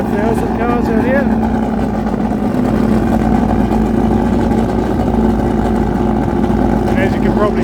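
Car engines rumble and rev at a festival with around 2000 cars, a dense, continuous mix of running motors with occasional acceleration swells, heard close and loud while people talk over it.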